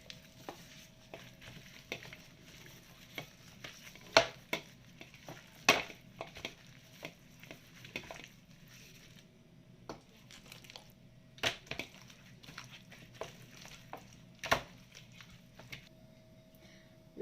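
Chicken pieces are mixed into a marinade for chicken with olives, with soft wet squelching and stirring and intermittent sharp clinks of a utensil against a bowl, fairly quiet and close.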